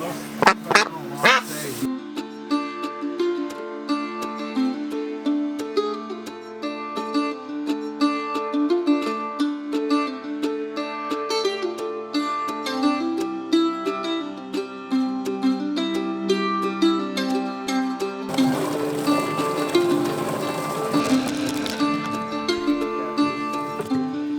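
Ducks being picked up and handled quack loudly and continuously at close range, their nasal calls overlapping in a busy, unbroken chorus with a burst of scuffling flapping near the end.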